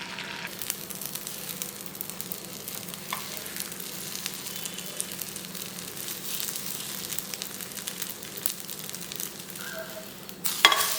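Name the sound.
beaten eggs frying as an omelette in hot oil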